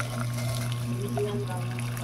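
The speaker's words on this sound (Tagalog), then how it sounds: "ilagay natin yung mainit na tubig" Hot water from a heater is poured into a cooking pot for organic chicken soup, a steady faint pouring stream under a speaking voice.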